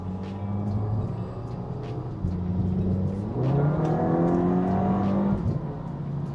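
A 2015-era Audi A3 sedan accelerating hard from inside the cabin, engine note climbing in pitch, dropping briefly at a quick gear change, then rising again loud and close.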